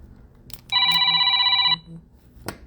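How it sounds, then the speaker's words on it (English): A telephone rings with one steady electronic burst lasting about a second, close and clear, with faint background noise and a short click afterward. "Of course, I'm getting a phone call right now."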